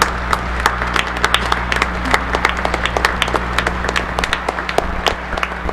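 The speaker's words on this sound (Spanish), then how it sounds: "le recibimos con un cariñoso aplauso" A church congregation at Mass applauds in welcome for a visiting archbishop from Guayaquil, Ecuador, with many hands clapping in a lively, continuous patter over a low steady hum, no voices.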